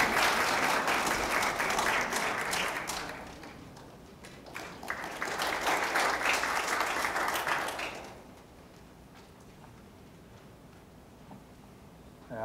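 An audience at a commemoration ceremony claps in two strong bursts of dense applause, the second fading out around the eighth second into quiet room noise.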